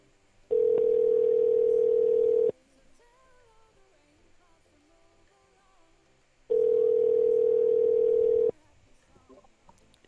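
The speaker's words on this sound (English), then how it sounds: "Oh no, it's ringing. It's ringing now." A telephone ringback tone sounds while a call is being placed: two long, steady buzzing rings about six seconds apart, loud and clear, with faint room noise in the gap.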